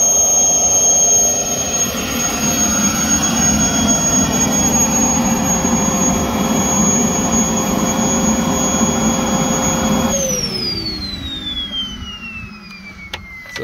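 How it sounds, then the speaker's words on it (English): An RC model Voyager jet aircraft flies with a steady, loud turbine roar and high whine, then the pitch drops sharply as it passes and recedes into the distance. "flying the top RC model Voyager"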